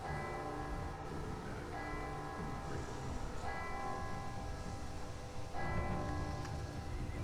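Video game bell ringing continuously with slow, resonant strikes, its metallic tones blending into a dense, rumbling ambient backdrop at moderate volume.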